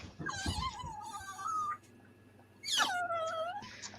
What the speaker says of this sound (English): I hear a puppy or something.